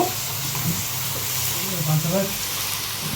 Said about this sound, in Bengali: বেগুনটা একটু ভাজা ভাজা করে নিব